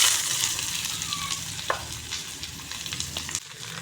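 Cucumber pieces dropped into hot oil with mustard seeds and radhuni for a Bengali sesame sour dish, giving a loud close sizzle that slowly settles, with a couple of light knocks and no talking.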